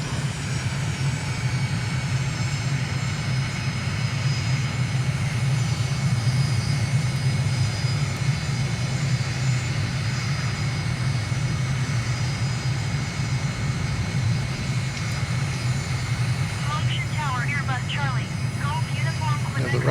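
Steady, loud drone of an aircraft engine during a landing approach with the throttle chopped, holding a constant tone throughout, with a person talking over it.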